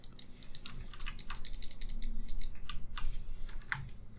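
Computer keyboard keys, the direction keys, tapped steadily while a side-scrolling puzzle game is played, giving close, crisp clicks in quick irregular bursts over a low background hum.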